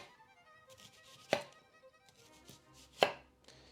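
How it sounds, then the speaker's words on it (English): A knife cuts through onion layers on a board in two sharp, crisp chops spaced well apart, close and fairly quiet, with faint rustling in between. "take your knife and just kind of go through it, cut like a few layers"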